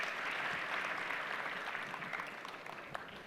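A conference audience gives a warm round of applause to the speakers after a panel on e-commerce in Latin America, a full, continuous wash of clapping that fades slightly near the end.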